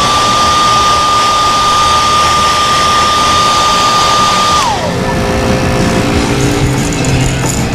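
A heat gun heat-setting spray paint runs loud and steady as a continuous blowing roar with a fixed whine, which drops in pitch partway through as the airflow setting changes, with no talk over it.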